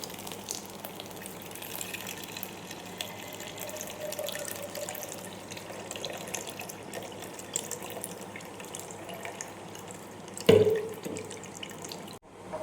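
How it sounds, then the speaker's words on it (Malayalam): Blended mint, cucumber and green mango juice diluted with water being strained, giving a steady close trickle and drip of liquid with a brief louder splash near the end. "അതിന് ആവശ്യത്തിന് വെള്ളം ചേർത്ത് അരിച്ചെടുക്കാം"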